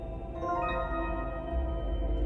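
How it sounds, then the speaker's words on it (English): A sustained harpsichord note from the video game Zero Escape: Zero Time Dilemma, with bright, buzzy plucked overtones, rings out and slowly decays, clear and close with no voices. "It's actually a harpsichord instead of a piano."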